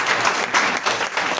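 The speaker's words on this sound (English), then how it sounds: "So let's give them a round of applause." Audience at a book launch applauds loudly and continuously, a dense wash of many hands clapping up close in uneven surges.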